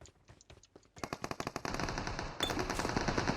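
Rapid automatic gunfire from the battle game PUBG Mobile, a few sparse shots opening into sustained loud bursts of machine-gun fire that run continuously to the end.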